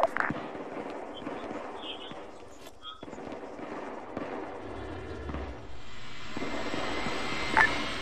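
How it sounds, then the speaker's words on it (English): A C-17 military transport aircraft starts its engines, a broad rumbling roar that builds steadily into a higher whine, with a few sharp pops and brief radio tones over it. "C-17 is starting up its engine."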